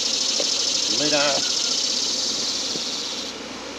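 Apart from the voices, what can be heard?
honey bees buzzing during a mite wash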